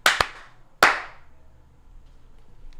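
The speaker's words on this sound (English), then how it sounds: "If you're happy and you know it, clap your hands." Two sharp bursts of hand clapping from an audience singing along to a children's song, the second louder and trailing off into quiet.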